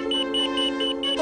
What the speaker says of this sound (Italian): è l'allarme della sua nuova Edson Hornet